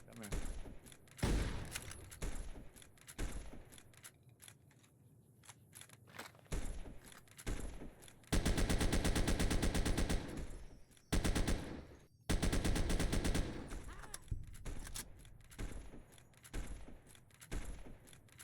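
Fallout: New Vegas gunfire erupts in repeated loud automatic bursts between quieter gaps, and a player talks over the combat.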